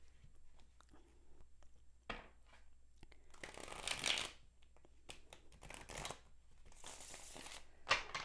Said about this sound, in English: I'm going to do a Celtic cross spread using Trick or Treat Tarot to find out what was happening with Elliot